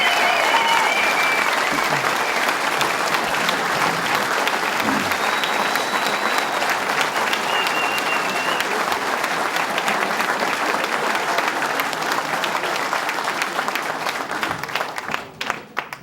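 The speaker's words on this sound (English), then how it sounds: "And give them another round of applause because they deserve it." Sustained, dense applause from a large audience at a public announcement event about repowering and expanding the Dunkirk power plant, steady and loud for about fourteen seconds before tapering off.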